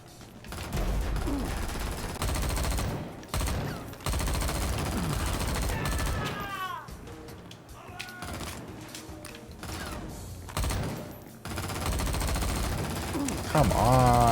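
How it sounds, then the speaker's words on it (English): Assault rifle fire in the video game XIII, rapid automatic bursts repeating across the clip between short gaps, loud and close, with game effects and a player talking in between. "Lots of assault rifle."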